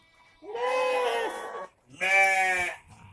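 Two long, wavering bleats from goats close by their pen in the evening, one after another with a short pause between, loud and harmonic.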